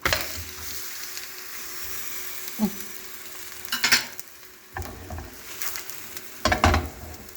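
Two ladles of batter fry in a large pan with a steady close sizzle, broken by a few louder bursts of spatula scraping and clatter.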